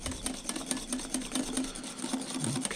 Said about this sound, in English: We can add our egg yolk mixture right back into the cream and whisk it all together.